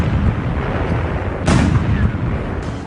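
A tank's main gun fires in a single heavy blast that booms loud and close against a steady roaring background, with a second, fainter burst arriving near the end.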